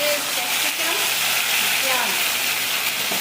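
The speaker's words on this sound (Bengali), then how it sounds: "আদা রসুনটা একটু ফ্রাই করে" Ginger and garlic frying in a pan give a steady, close, bright sizzle that holds throughout, with faint voices murmuring underneath.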